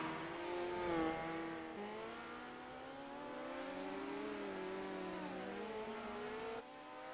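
A midget race car running a single lap on the Chili Bowl dirt track, its engine whining and revving with rising and falling pitch as it travels, steady and fairly loud, with no talk over it.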